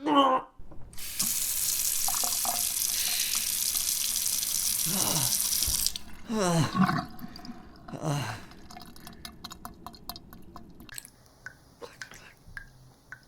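Water from a tap runs steadily into a tub for several seconds in the Alley video game, then stops and gives way to scattered drips, with soft breathy voice sounds around it.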